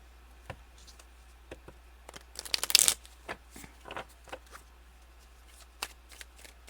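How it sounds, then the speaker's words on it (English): Tarot cards are shuffled close up, with soft scattered flicks and taps and a brief dense riffle burst in the middle, then sparse light clicks. "I might have to shuffle again."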